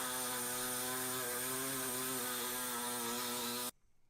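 A power tool runs steadily on metal, a loud, sustained whining drone with slight pitch wavers that cuts off abruptly near the end, followed by quiet.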